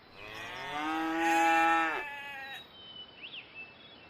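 Cattle give one long, loud, drawn-out moo that swells and then cuts off, followed by a few faint, thin sounds in quiet surroundings.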